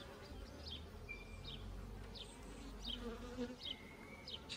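Honey bees buzz during a hive inspection, a soft continuous hum with individual bees droning past, faint and close, with a few light chirps over it and no talking.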